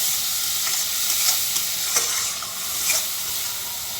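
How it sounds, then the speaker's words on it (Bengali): Tomatoes with salt and turmeric sizzle and fry in a pan, with a steady hiss broken by occasional stirring scrapes and small pops. No one speaks. "টমেটোটাকে ভালো করে কষিয়ে নেব।"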